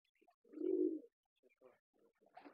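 Pigeons in a pigeon house give a soft, low coo, followed by faint shorter coos and rustles, heard at close range in a quiet room.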